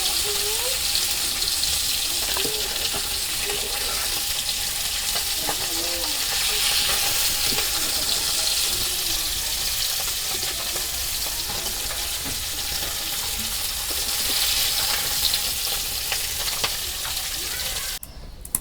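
Silver carp pieces frying in a pan in a village kitchen, a steady close sizzle and crackle of hot oil running throughout with occasional stirring or scraping, no talk.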